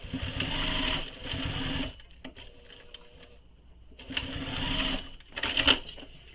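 A sewing machine stitches fabric in two bursts of rapid, whirring mechanical chatter, close and fairly quiet, with a softer pause between them and no speech.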